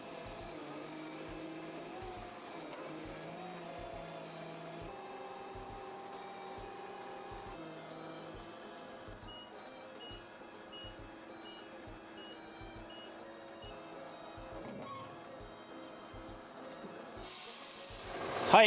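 A large UD hook-lift arm roll truck backs up to hook onto a container, its engine droning steadily under a regular pulsing beep, with a louder clatter at the very end.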